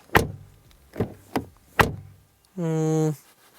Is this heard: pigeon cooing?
no